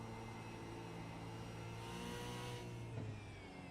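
A V8 Supercars race car in a racing video game, its engine droning and revving steadily and loudly throughout with a slight rise in pitch near the end, no voices.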